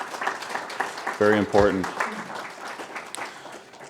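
Applause for student ambassadors at a mentoring event, continuous clapping from a room of people running beneath a brief spoken phrase.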